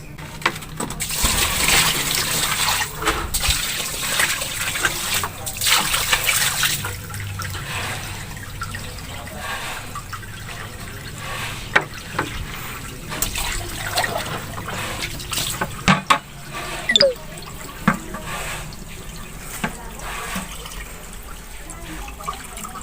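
Water is poured onto a newly finished concrete bathroom floor and runs toward the floor drain, producing uneven splashing, trickling and dribbling that fades into scattered drips and small bumps.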